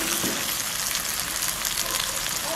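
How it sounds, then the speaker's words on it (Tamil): Sauce for a cuttlefish dish frying in oil in a pan, giving a dense, continuous sizzle that stays loud and even throughout with no voices over it. "இந்த சோஸ் எண்ணெய்க்குள்ள முருகட்டும் ஒரு 5 நிமிஷம் பிடிக்க விடுவோம்."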